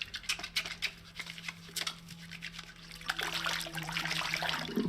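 Running water washing paint off a face in the video game Fall of Porcupine, a steady close trickle and splash with a faint tonal hum underneath, thickening into a fuller gush toward the end.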